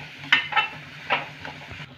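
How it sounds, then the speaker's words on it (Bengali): Cauliflower frying with spices in a pan, heard as a few quick stirring scrapes against the metal over a low, soft sizzle. "আমি একসাথে ভালো করে একটু 1 থেকে 2 মিনিটের মতন ফুলকপিটাকে একটু ভেজে নেব মশলার সাথে"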